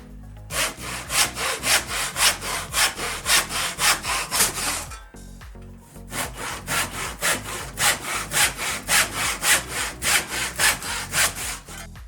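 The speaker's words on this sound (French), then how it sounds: "je le scie à l'aide d'une boîte à onglets" Steady back-and-forth strokes of a handsaw cutting a wooden batten in a miter box, rhythmic and close, with a brief pause midway before the sawing resumes.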